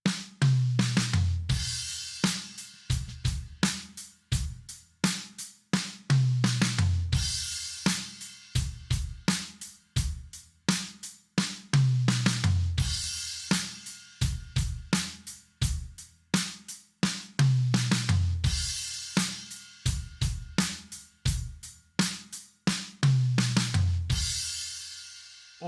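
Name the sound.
basic paradiddle drum fill played on drum kit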